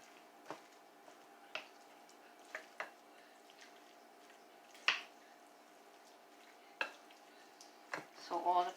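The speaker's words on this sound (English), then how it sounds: "using your wooden spoon, carefully mix the pot pie mixture" A wooden spoon stirs a thick pot pie mixture of cream soup, vegetables and beef, making quiet, sparse knocks and soft squishes against the pot, each one distinct and fairly faint.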